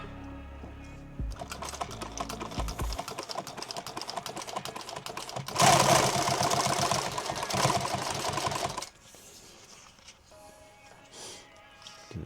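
Sewing machine stitching folded fabric for a modular load-bearing vest, a fast steady mechanical chatter that rises louder midway and stops abruptly, followed by quieter handling.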